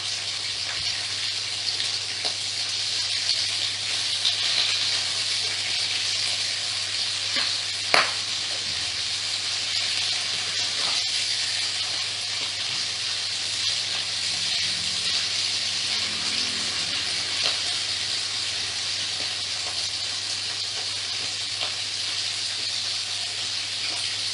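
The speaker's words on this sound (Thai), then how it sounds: "แล้วก็จะเติมกุ้งลงไปนะคะผัดจนสุกค่ะ" Shrimp stir-frying in a pan for fried rice, a constant loud hissing sizzle with a low steady hum and an occasional sharp clink.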